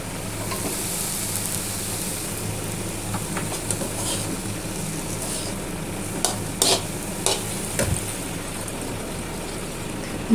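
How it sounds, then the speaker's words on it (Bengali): Rice frying for mustard-oil beef tehari gives a continuous, fairly loud sizzle close by, broken near the end by a few quick metallic scraping strokes as it is stirred. "ভালোভাবে ভেজে নিয়ে এর মধ্যে পরিমাণ মতো পানি অ্যাড করে দেব"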